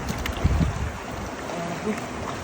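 Strong river current pours and rushes steadily during hand fishing, a broad continuous wash of flowing water with faint splashes, fairly close and alone.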